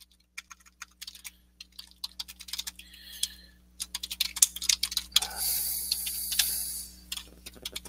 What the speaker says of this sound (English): I'm typing it into the chat right now